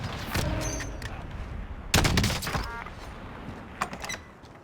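Sniper rifle shots crack out in a Call of Duty Warzone Mini Royale match, three loud, sharp reports spaced about two seconds apart, each trailing into echo.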